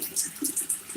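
Water is poured out of a pot with holes in the bottom, giving a short splashing, trickling rush with uneven bursts, fairly close and without talk.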